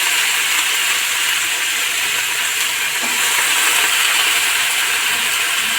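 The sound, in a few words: cauliflower stalk vegetables added to hot pan, sizzling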